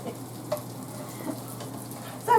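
Butter melting in a pan for beef stroganoff, a faint, low, even sizzle with a couple of soft taps and a brief louder clatter at the end.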